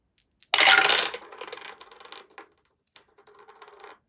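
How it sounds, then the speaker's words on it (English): Six dice rolled during a tabletop war game, a loud close burst of rattling clatter that settles into scattered smaller clicks and a final short tumble, with no voices. "So I'm going to roll 6 dice."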